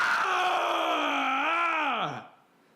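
A narrator's voice imitates an inhuman shriek, a loud, sustained, rising and warbling cry that bends downward and cuts off, with no other sound.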